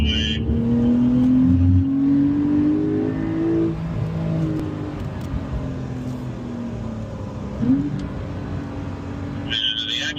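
Porsche at full throttle on a track straightaway, its engine note climbing steadily as it pulls hard, loud and close from inside the car, then a brief dip and a fresh rise as it shifts.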